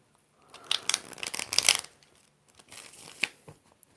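Tarot cards are shuffled close by in quick papery riffling bursts: a busy flurry in the first half, then a softer, shorter round of rustling and flicks.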